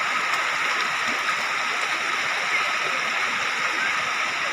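Flood water after heavy rain rushing steadily in a dense, unbroken roar in So Phisai, Bueng Kan, Thailand, loud and close, with no pauses or voices.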